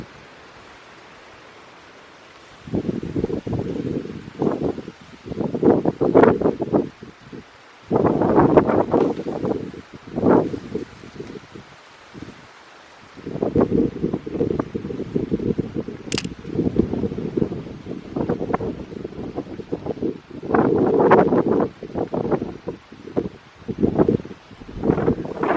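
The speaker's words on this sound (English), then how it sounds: "It's now getting too windy and kind of scary as well." Wind gusts through the jungle trees of Pacaya Samiria in Peru as a rain cloud moves in at sunset, making loud, uneven buffeting surges with brief lulls between them and no voices.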